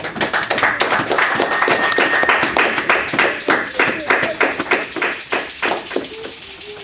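A church congregation claps and applauds the Lord in a steady, rhythmic beat, with loud sharp claps running throughout alongside voices and music.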